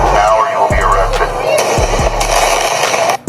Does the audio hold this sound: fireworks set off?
yes